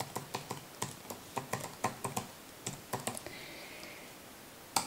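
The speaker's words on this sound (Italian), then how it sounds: "digitate direttamente nella barra degli indirizzi bibliomarchesud.it" A web address is typed on a computer keyboard as a quick run of crisp key clicks in an uneven rhythm, close and clear, followed by a short pause and one final firmer keystroke, with no talking.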